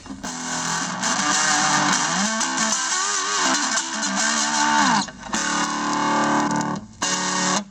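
Loud, overdriven electric guitar through the hard rock distortion setting of a Boss ME-30 multi-effects pedal plays riffs with gritty distortion, bending notes and chunky chords, stopping abruptly a couple of times.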